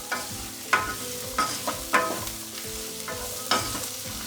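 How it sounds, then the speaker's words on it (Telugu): Okra (lady finger) frying in oil for a Telangana-style gravy, a steady sizzle broken by several sharp scraping strokes of a spoon stirring the pan, close and clear with no talking. "కొంచెం బెండకాయ మగ్గాలి ఆయిల్లోనే."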